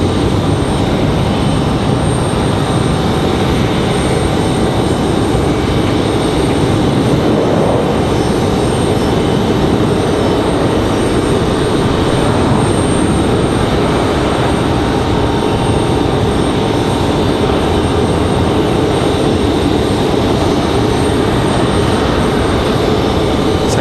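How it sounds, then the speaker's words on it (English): A Delta Connection CRJ regional jet touches down at Raleigh-Durham International Airport, its engines a loud, steady broadband roar that holds for the whole stretch with no talk over it. "Delta connection touching down, CRJ."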